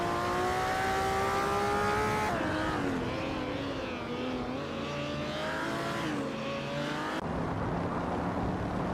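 Racing cars in a race led by a 1962 Ferrari 250 GT, engines revving loudly with rising and falling pitch as gears shift, layered whines from several cars close by, no talk.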